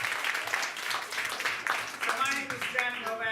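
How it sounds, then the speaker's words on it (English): Audience applause at a live show, a steady wash of many hands clapping that continues as someone begins speaking over it near the end. "Let's give one more round of applause for all our members."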